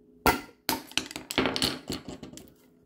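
Hammer strikes on a chisel cutting out wood for a scrap-built chicken coop door, a series of sharp, close knocks, a few spaced and then several quicker blows, heard alone.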